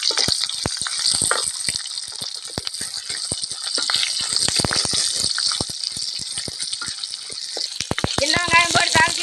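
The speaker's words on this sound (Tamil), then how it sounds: "பண்ணிட்டு கருவேப்பிலை போடுறேன். சிறு வெங்காயத்தை போடு." Shallots and curry leaves frying in hot oil for oil brinjal kulambu, a steady close sizzle with crackling pops and spatters throughout, growing busier near the end.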